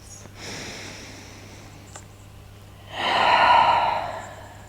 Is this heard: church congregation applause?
no